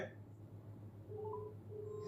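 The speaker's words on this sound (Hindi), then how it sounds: "आपकी वॉच में बजेगी रिंगटोन और आपकी वॉच में होगा वाइब्रेशन" A Noise Halo Plus Elite Edition smartwatch ringing for an incoming call gives a faint, thin ringtone of short electronic tones repeating over a low steady hum; no vibration buzz stands out.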